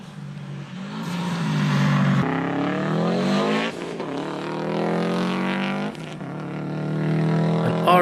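Porsche 911 rally car on a stage at the Lombard Tredegar rally, its engine note rising loudly through the gears as it passes close by, briefly dipping between shifts before revving hard again.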